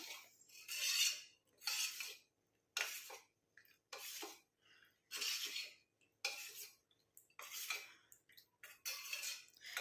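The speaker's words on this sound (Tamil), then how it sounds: "இப்போ நல்லா நம்ம இதை வந்து கட்டிகள் இல்லாமல் மிக்ஸ் பண்ணி விட்டுக்கலாம்." A rice flour and cornflour face pack is mixed in a bowl, heard as repeated bursts of scraping and rasping from a spoon against the bowl, separated by short quiet gaps; no talking.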